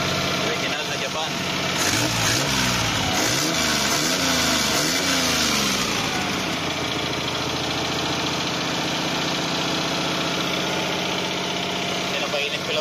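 Suzuki Multicab F6A engine idling after fitting a new original Japanese Mikuni carburetor, a steady close mechanical drone with a brief surge of throttle early on; someone speaks over it.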